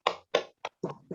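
Hand claps from an Indonesian classroom 'tepuk semangat' clap chant, demonstrated by a teacher during a class session: five crisp, close claps in a quick uneven rhythm, with short silences between them.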